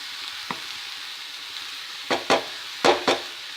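Grated carrot and coconut sautéed together in a pan, a quiet steady sizzle broken by several sharp spoon knocks and scrapes against the pan, close and without talk.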